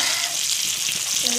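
Meen varuval fish fries in a pan with a constant dense sizzle and crackle of hot oil, close and even for the whole moment, with no talk over it.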